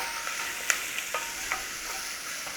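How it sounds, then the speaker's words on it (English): Onions cooking in a pan after salt and black pepper go in, with a soft steady sizzle and a few light stirring clinks and scrapes; no talking. "we're cooking the onions first"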